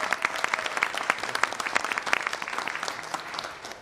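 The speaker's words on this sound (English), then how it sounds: "Let's give him a round of applause, Mayor Johnson." Audience at a COVID-19 response press conference in Savannah applauding, a steady patter of many hands with individual claps standing out, fairly distant and even throughout.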